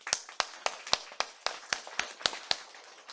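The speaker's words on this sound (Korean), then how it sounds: "오늘도 박수 한번 치죠. 박수." Hands clapping in a church congregation during a Sunday service, about ten sharp, evenly spaced claps in a steady rhythm, fairly close and alone with no talking.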